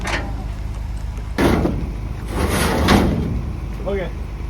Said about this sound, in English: one last thing we have to do is close our slide door